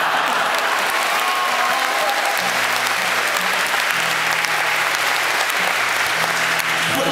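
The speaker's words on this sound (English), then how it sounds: "Bullshit applause line that was." A concert audience in London's Union Chapel claps at a show, a dense, steady wash of applause with some crowd noise beneath it that holds at full strength throughout.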